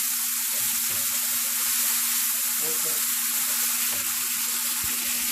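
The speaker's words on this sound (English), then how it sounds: "So here goes curry leaves, ginger, garlic and green chili paste. Just stir this for a minute." Curry leaves, ginger, garlic and green chili paste fry in hot oil with spluttered mustard seeds for vada pav, a steady close sizzle with occasional pops and stirring, no voices.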